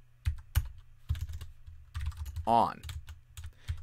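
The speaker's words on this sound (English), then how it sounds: "I'm going to type in dash dash scattering" Brisk clicking of a computer keyboard, a handful of quick keystroke clusters at close range, with a brief spoken word in between.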